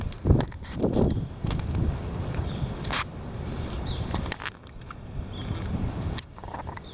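Heavy wind blows in strong, continuous gusts, with low rumbling buffeting and brief sharp bursts of noise, loud and close throughout.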